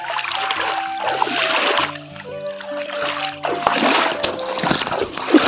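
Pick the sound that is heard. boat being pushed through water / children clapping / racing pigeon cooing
boat being pushed through water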